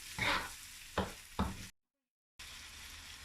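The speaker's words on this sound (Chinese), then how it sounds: "加入1勺剁碎的豆瓣酱，1勺黄豆酱，1勺甜面酱，翻炒均匀入味" A spatula stirs chopped broad bean paste, soybean paste and sweet flour sauce in a hot pan for zhajiang noodles: three quick scraping strokes over a soft sizzle, a short silent gap, then steady frying.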